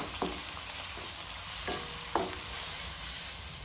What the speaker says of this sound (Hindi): देखो जी आप हूँ 5 मिनट टमाटर चंगी तरह में फ्राई करा जी